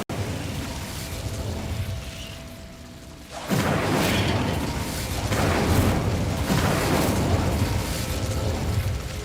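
An Incendio fire spell cast in Hogwarts Legacy gives a sudden whooshing burst of flame that starts midway, then roars on steadily and loudly with rushing, crackling bursts.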